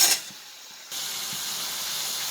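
Dried anchovy thokku frying in a pan gives off a soft hiss that drops away briefly, then returns as a steady, louder sizzle.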